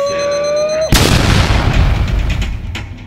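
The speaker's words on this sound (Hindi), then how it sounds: "बॉम्ब फोड़ता है मेरे पे" A Diwali firecracker bomb bursts with one loud, sharp boom just under a second in. A broad rumbling tail fades slowly behind it, and a steady tone before the blast cuts off at the moment it goes off.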